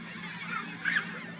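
Goose-like honking from a large bird, a few nasal honks over a steady low hum, moderately distant and fairly faint.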